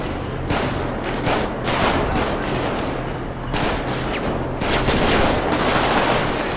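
Heavy gunfire in a GTA 5 zombie mod, dense overlapping volleys of rifle shots and thuds rolling on continuously, loud and fairly close with brief lulls between surges.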